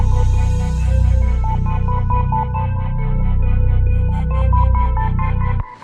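A bell patch from Electra X, a bell from the Apache bank, plays a steady repeating melodic loop with clear tonal notes over a deep sustained low end, loud and continuous, stopping abruptly at the end.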